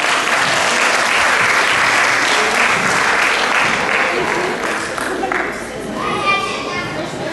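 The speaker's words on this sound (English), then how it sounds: "I want you to give a horrible round of applause for Joshua" Loud, sustained applause for Joshua from a crowd that includes children at an institute celebration, steady clapping throughout that eases off slightly toward the end with some chatter mixed in.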